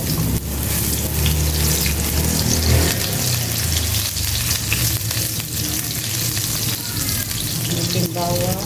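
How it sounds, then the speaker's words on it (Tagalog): Onions sautéing in a hot pan while Monggo with bulad is cooked, a steady loud sizzle with stirring and faint watery sounds running throughout. "So, gisa na natin ang ating sibuyas."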